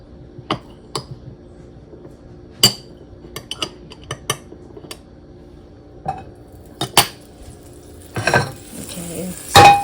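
Butter and eggs cook in a light pan, not cast iron, with utensil scrapes and clinks against the pan and scattered sharp knocks over a low background, building to a louder hissing sizzle near the end.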